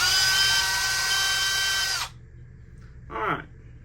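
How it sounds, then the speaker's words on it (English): A power drill whines loudly and steadily as it drills out a wheel, cutting off abruptly after about two seconds, followed by a brief lower whir and quiet. "So, I'm just going to drill this one out."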